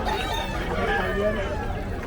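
A fighting rooster at the Bocaue pet market gives short calls amid steady crowd babble and nearby voices talking.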